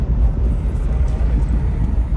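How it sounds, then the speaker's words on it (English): A 1996 Pontiac Trans Am WS6 V8 with Trick Flow exhaust gives a steady, loud low rumble on a drive, constant and unbroken with no talking. "Got some trick flow exhaust, so we've got a nice little sound to it"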